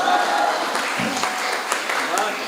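An audience at a Hindi comedy and mimicry show claps, a steady wash of applause that fills the moment at moderate loudness.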